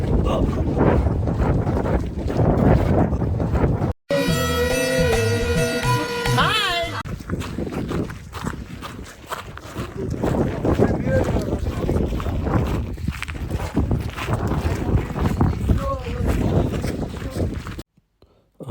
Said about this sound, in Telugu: అసలు రికార్డింగ్ చేస్తున్నా కానీ మొత్తం నాకు గాలి సౌండ్ వినిపిస్తుంది తప్ప నా వాయిస్ ఏమి వినిపించట్లేదు